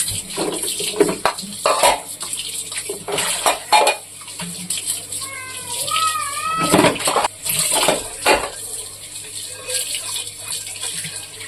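Dishes clatter and clink under running water, with intermittent scrubbing and rinsing sounds close by.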